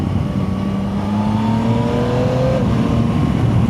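A Yamaha Tracer 9 GT+ touring motorcycle engine hums steadily under constant wind roar while riding, its pitch climbing and then dropping as the rider shifts gears manually.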